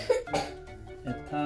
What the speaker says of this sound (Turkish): Bir kez daha öksürür müsün?